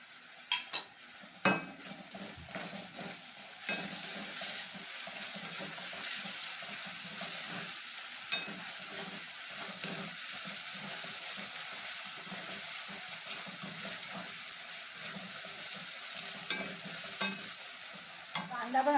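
Salted onions fry in a pan until golden, a low continuous sizzle with occasional stirring knocks and scrapes over a long stretch, fairly quiet throughout.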